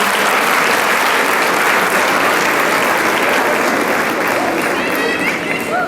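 A loud, dense burst of audience applause fills a Caucasian association's cultural night in Çorum, with sustained clapping throughout.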